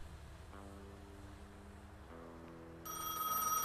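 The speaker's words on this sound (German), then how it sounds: "Ich glaube, ich muss das Telefonat annehmen" A telephone rings steadily in the Gas Station Simulator game, a repeating electronic bell tone over a low background hum that grows brighter and louder near the end.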